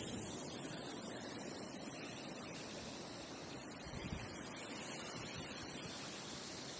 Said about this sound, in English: Here, we'll just watch the water come in.